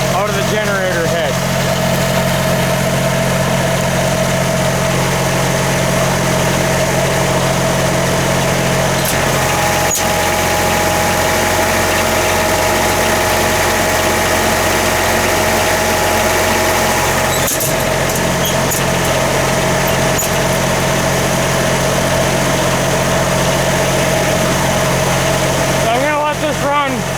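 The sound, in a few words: generator engine running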